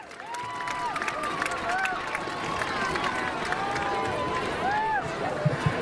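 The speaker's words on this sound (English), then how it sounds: "Let's have another round of applause for our 10th grade homecoming court, Delaney Chapman and Michael Sakuchi." A crowd at a 2019 Marysville High School homecoming gives distant, sustained applause and cheering for the 10th grade homecoming court, heard as a steady wash under an announcer's voice.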